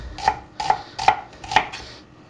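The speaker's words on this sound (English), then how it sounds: "just chop the heads and roots off and then just finely slice" A kitchen knife slices through onions on a cutting board for beef stroganoff, giving four crisp, evenly spaced chops heard close up with no talking.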